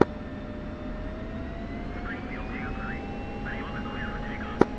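Steady jet engine run-up to 90% before takeoff in a flight simulator game, a continuous roar with a slowly rising whine, radio voices chirping over it and a click at each end.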